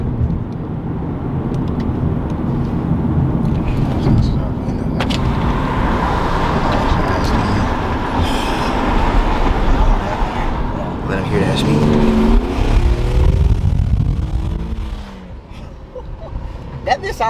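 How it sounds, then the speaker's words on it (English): An Infiniti G37 car engine runs with a steady drone and revs with a whining, supercharger-like tone, heard from inside the car under ongoing talk from the occupants. "Sound like a supercharger."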